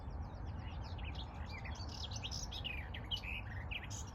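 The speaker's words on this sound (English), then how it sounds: "Garden warbler has just been here" A garden warbler sings a fast, rich, warbling song of high notes in a tree top, heard fairly faint and distant over a steady low rumble of wind or background noise.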